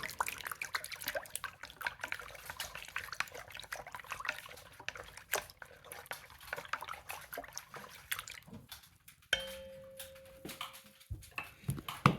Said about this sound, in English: I'll stir that around. The starter will kind of dissolve in the water.